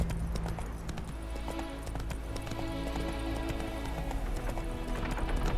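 Roach the horse trotting in The Witcher 3, a steady fast clip-clop of hooves over a continuous low background rumble, moderately loud and close.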